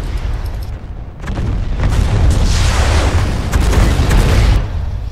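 Booming in-game explosions from a multiplayer shooter, a dense rumbling roar that swells and holds loud over several seconds with low-end blasts layered beneath crackling debris, no talk.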